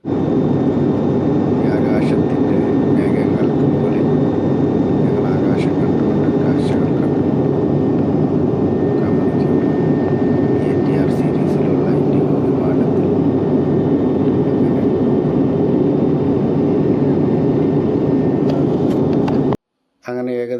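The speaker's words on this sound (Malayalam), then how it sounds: "ഞങ്ങളെയും വഹിച്ചുകൊണ്ട് ഇൻഡിഗോ വിമാനം പറന്നുയർന്നു" An IndiGo airplane takes off on a flight to Lakshadweep, heard from on board. A steady, loud engine roar fills the cabin throughout and cuts off abruptly at the very end.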